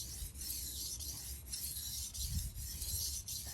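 A steel knife is pushed with hard pressure across a King Deluxe 1200 whetstone, giving a continuous gritty rasping scrape close up with faint rhythmic strokes.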